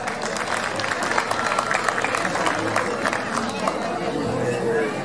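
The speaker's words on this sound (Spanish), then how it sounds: "Marcelo Cejas, fuerte el aplauso." An audience claps loudly for a performer during a folk ballet show of Argentine chacarera dancing. The applause is thick and sustained, with crowd chatter and murmuring voices blended through it from start to finish.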